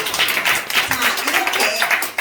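An audience at a Korean community association gathering claps in scattered bursts, with uneven, close hand claps and some voices mixed in.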